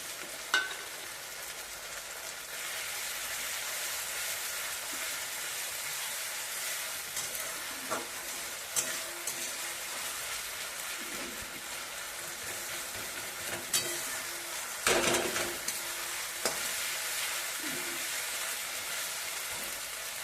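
Onion and ginger garlic paste frying in a pan for chicken kosha, a steady sizzle running throughout with occasional scrapes and knocks of a utensil stirring, close by and without any voices.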